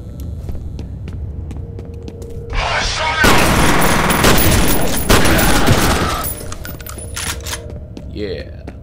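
Shotgun fire in the video game F.E.A.R. comes as loud, dense bursts of blasts, swelling into a sustained roar midway before dropping back to scattered game noises.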